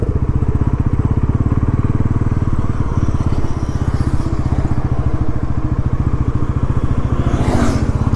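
Engine of an upgraded Bajaj Pulsar NS 400Z motorcycle running close by, a steady, evenly pulsing low thrum that holds throughout with a faint whoosh passing late.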